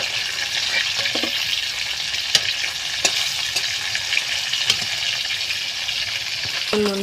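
Small rohu-type carp fish frying in hot oil in a pan, a steady dense sizzle throughout with a few sharp scraping clicks of a utensil lifting the pieces out.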